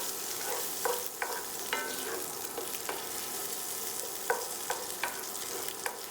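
Onions and garlic soften in a frying pan with a soft, steady sizzle, broken by several light taps and scrapes of a utensil stirring, close but quiet.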